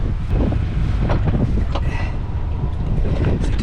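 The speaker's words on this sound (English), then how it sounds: "Quite a bit of wind." Strong wind gusts across the water while a Lagoon 42 catamaran is brought in to dock. The wind buffets the microphone in a loud, continuous roar with uneven surges and no talking.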